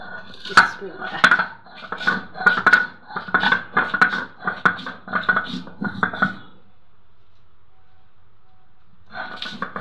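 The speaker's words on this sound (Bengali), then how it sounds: "ভর্তাটা তৈরি করতে প্রথমে আমি মরিচগুলা বেটে নেব।" Chillies are ground on a grinding stone, giving rhythmic, close, rubbing and knocking strokes about twice a second that pause briefly and then resume.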